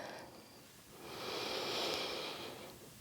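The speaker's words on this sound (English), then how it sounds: "Taking a couple moments right here to smooth out our breathing." A single slow, deep exhale during a vinyasa yoga flow: a soft, breathy rush that swells and fades over a couple of seconds, close and quiet, with no talking.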